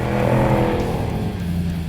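A car's supercharged 5.8-liter V8 with 662 horsepower bellows through its exhaust, a loud, close, sustained growl with a rough low rumble, heard alone without talk.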